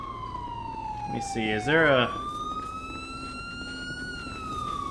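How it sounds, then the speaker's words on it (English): A police car siren in the video game GTA V with the LSPDFR mod, wailing in a rising and falling pattern with a brief yelp burst, under occasional talk. "Come on, dude, kill your siren."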